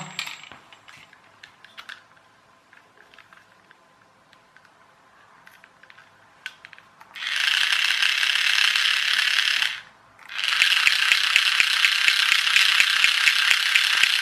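A TOMY toy fire engine's single-motor gearbox, opened up on the bench, gives scattered small clicks and then bursts of loud, rapid ratcheting gear clatter, briefly cut off once before starting again.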